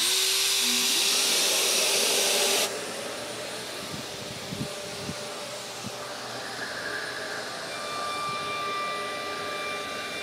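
A Shaper Origin handheld CNC router cutting an inlay, starting with a loud high whine for the first few seconds, then settling into a steadier, quieter motor hum with a few brief bumps and a faint tonal whine.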